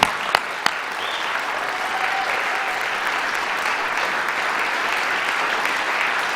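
A large audience applauds steadily at an evening milestone celebration event, dense continuous clapping that holds at a loud, even level throughout, with a couple of sharp claps standing out at the start.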